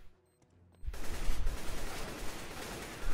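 Automatic gunfire in Counter-Strike: Global Offensive bursts in loudly after a near-silent opening, a sustained rattling stream of shots that stays close and heavy to the end.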